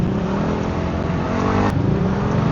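Road traffic with cars passing close by, a loud continuous engine rumble and tire hum, with a brief sharp interruption near the end.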